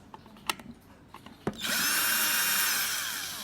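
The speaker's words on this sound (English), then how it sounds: "take off the screws on the front panel one by one" A power screwdriver removes the screws from the front panel of a Smonet Y smart lock, a few light clicks and handling taps, then a steady, loud high-pitched whir from about midway that runs to the end.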